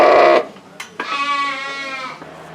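Sheep and lambs bleat in a pen at a shearing on an Ohio farm: a loud, close, wavering bleat follows a short harsher call, with another animal audible at the start.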